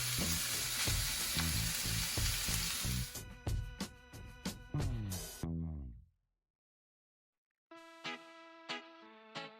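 Minced beef sizzles loudly in a pan with vegetables as it is stirred, dense crackling frying that cuts off abruptly, then returns after a short silence as quieter sizzling with clinks.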